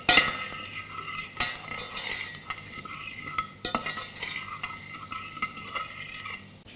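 Salted onions sweat gently in a pan with a soft, low sizzle, broken up by close scrapes and clinks of a utensil stirring against the pan at an uneven pace.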